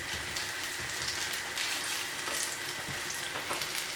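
Banana fritters sizzle in hot oil in a pot, a dense, steady crackling hiss that stays even throughout, with no voices.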